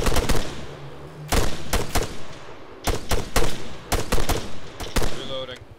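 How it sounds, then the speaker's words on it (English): Bursts of automatic gunfire in the Arma 3 military shooter, several loud cracking volleys in quick succession with short gaps between them, ringing across an open game battlefield. "Take shots when he's in range, take shots when he's in range. Alright, start shooting."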